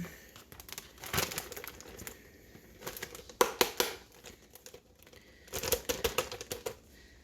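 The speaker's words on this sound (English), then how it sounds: "I pour all this goodness into a big Ziploc bag" Plastic Ziploc bag of pork and taco marinade being handled, giving close crinkling and rustling in irregular bursts that rise and fall with quieter moments between.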